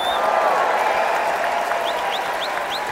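Concert audience at a show cheering and applauding, a steady dense wash of clapping and shouts that carries on loud and close throughout with no break.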